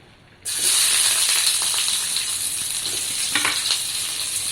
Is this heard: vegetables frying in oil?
yes